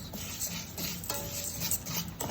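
Vermicelli fries in oil in a pot while being stirred and scraped, producing a steady close rasping texture with a few sharper scrapes and no talking.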